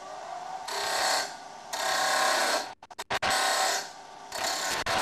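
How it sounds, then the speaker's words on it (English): A wood lathe turning timber on a wobble chuck makes bursts of bright, buzzing cutting noise in several passes, separated by brief pauses and a quick run of rapid clicks, close and fairly loud. "Turn the lathe on and proceed with the next cut."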